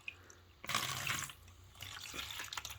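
Water from a tap runs onto rockwool cubes holding tomato cuttings to soak them, with two bursts of close, splashing flow separated by a brief pause.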